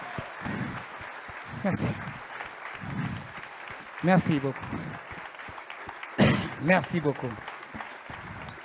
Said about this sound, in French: Les applaudissements.